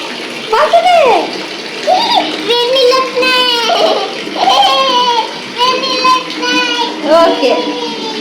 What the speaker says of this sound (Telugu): వేడి నీళ్ళు వచ్చేస్తున్నాయి